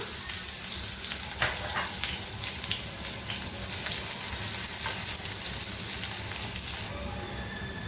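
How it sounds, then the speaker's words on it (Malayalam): Small onions frying in hot oil just after mustard seeds have popped, a steady close sizzle with bursts of crackle and the scrape of stirring, continuing alone without talk. "കടുക് പൊട്ടി. ഇനി ഇതിലേക്ക് ഒരു 5-6 ചെറിയ ഉള്ളി ഇട്ട് കൊടുക്കാം."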